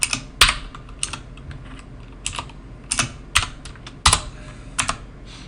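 Someone types on a computer keyboard while setting up a Django deployment, producing irregular, close, crisp key clicks in short bursts with a few louder strikes.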